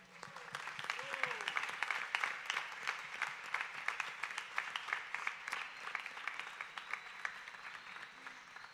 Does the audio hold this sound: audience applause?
yes